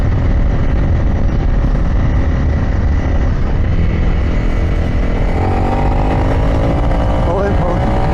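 A Honda CRF300 Rally motorcycle fitted with an SSS performance kit accelerates hard, its engine note loud and rising in pitch under heavy wind rumble, with a voice speaking over it.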